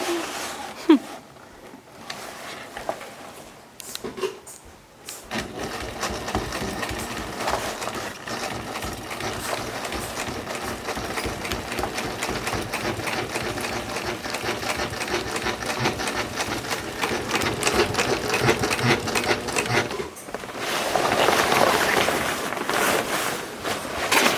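A sewing machine runs steadily for about fifteen seconds, stitching a UV sacrificial strip onto the foot of a genoa or jib sail, with brief starts and stops before and after the run. Quiet, close, mechanical hum with rapid needle rhythm.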